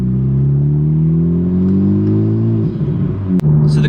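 A tuned Honda Civic Type R drives on the road with a loud, steady engine drone and a smooth rise in pitch, then a brief dip and a return near the end.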